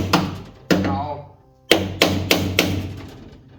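Hammer blows strike during car trunk latch repair work, about five sharp, loud hits in an irregular rhythm, the later ones coming in quick succession after a pause, with a voice cry or exclamation between them.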